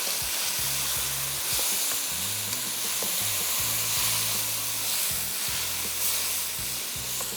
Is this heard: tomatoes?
yes